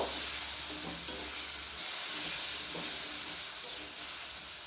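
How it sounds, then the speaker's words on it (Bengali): Ginger and green chili paste being stir-fried with tomatoes and peas, a soft steady sizzle with faint spatula scrapes in the pan, fairly quiet and with no voices. "এবার আমি আদা আর কাঁচা লঙ্কা বেটে রাখা সেই বাটাটাই দিয়ে দিচ্ছি। দিয়ে আরও কিছুক্ষণ কষিয়ে নেব।"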